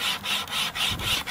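A tensioned survival wire saw, a bone saw, cuts wood in quick rasping back-and-forth strokes, about six even passes close up and loud, with no talking.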